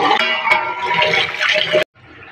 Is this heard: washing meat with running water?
yes